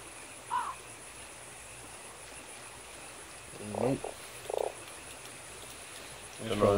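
A toad croaks a few short, separate times over a quiet ambient background in the Fran Bow adventure game.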